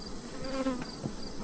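Honey bees buzzing around hive boxes during a fume-board honey harvest, a steady close drone with individual bees' hums rising and passing near the listener, no talking.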